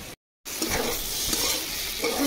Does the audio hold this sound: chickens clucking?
no